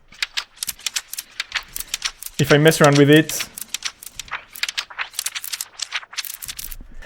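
Ping-pong delay in repitch mode with automated delay time throws rapid clicking, rattling repeats that skitter and bounce, briefly sweeping into a dense pitched warble midway, someone speaking over the start.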